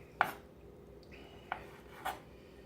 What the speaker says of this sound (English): I'm just going to, again, run my knife through it